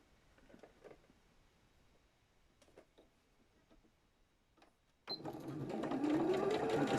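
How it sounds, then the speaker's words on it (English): A sewing machine stitching a zipped-top fabric bag: a few faint taps and handling sounds, then the motor starts abruptly and runs steadily, loud and close, with a rising whir for the final couple of seconds. "Put the stitch right to the end now. Right over the little tab thing, up to the side seam."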